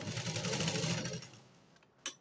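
A sewing machine stitches a blouse, running in a fast, loud rhythmic whir for over a second before slowing and fading out, followed by a single short sharp clack.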